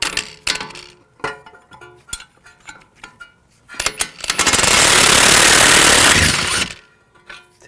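Wrench and socket working a hub nut on a 2001-2009 Volvo S60 front wheel bearing assembly, sharp metallic clinks and ratchet taps spread across the stretch, then a loud sustained mechanical whir for about two seconds before more scattered clanks.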